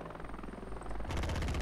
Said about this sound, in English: I've got my automatic helicopter, so my NPCs are having a good shoot.